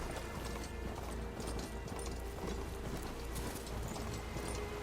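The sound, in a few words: horse hooves clip-clopping in video game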